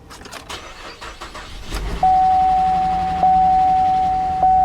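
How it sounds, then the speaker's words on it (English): A used GM car engine runs with a rattle, starting from rough mechanical noise, then a steady high electronic tone comes in that repeats in pulses, like a warning chime over the running engine. "Typical noise from a GM. The rattling engine doesn't surprise me at all."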